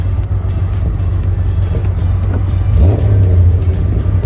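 A classic Nissan Skyline Hakosuka engine drones loudly from inside the car while driving, then swells into a rising rev before settling back.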